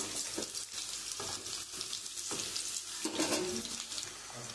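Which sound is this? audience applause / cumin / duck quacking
cumin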